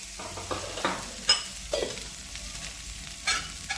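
Fried cluster beans and garlic being stirred in a pan, soft sizzling under intermittent scraping strokes of a spoon, close and moderately quiet.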